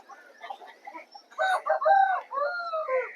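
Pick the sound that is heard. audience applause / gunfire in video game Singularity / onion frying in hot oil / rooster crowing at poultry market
rooster crowing at poultry market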